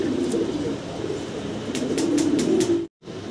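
A male fancy pigeon gives a series of soft, low, close coos, repeated in a steady rhythm and ending with a brief cut to silence.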